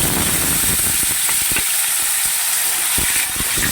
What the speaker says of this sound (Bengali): আলুগুলোকে আমি ভেজে নেবো দু মিনিটের মতন ভালোভাবে ভেজে নেব